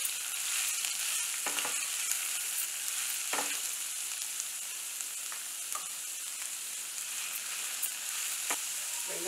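Chopped onions frying in hot oil in a pan for an ivy gourd kurma, a steady close sizzle broken by a few soft scraping stirs.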